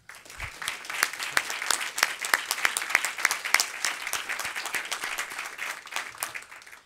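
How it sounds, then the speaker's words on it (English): Audience applauding at a police department presentation, sharp individual claps layered into steady moderate applause from a mid-sized room, tapering slightly toward the end. "We should clap."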